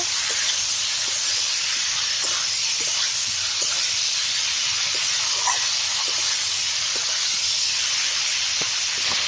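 Cauliflower and potato pieces sizzling in a hot pan with a constant loud hiss and faint soft clicks of stirring, close by and without speech.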